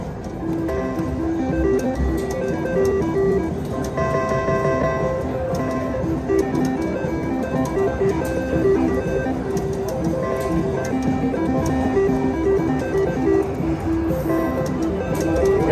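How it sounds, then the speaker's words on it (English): Classic three-reel slot machines such as Triple Double Moolah and Triple Stars, a busy mechanical whirring and ticking of spinning reels amid casino chimes and jingles, continuous and fairly loud. "Crazy slot machines."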